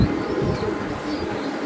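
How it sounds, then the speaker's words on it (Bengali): Hungarian Budapest and racing pigeons coo steadily in a loft, a soft continuous low burbling from several birds close by, with no talk. "প্রচুর পরিমাণ কবুতর আছে বাইরে"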